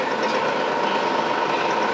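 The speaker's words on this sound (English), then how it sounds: "Engine is running now." A freshly rebuilt engine runs steadily, a continuous close mechanical drone with an even, unchanging hum for the whole stretch.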